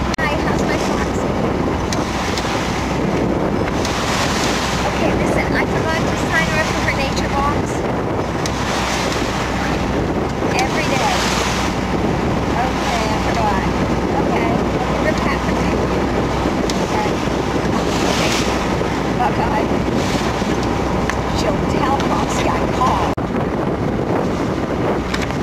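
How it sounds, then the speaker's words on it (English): Heavy ocean waves and strong wind buffet a sailing boat under way, with steady loud surf wash and microphone wind roar running continuously throughout. "Heavy waves."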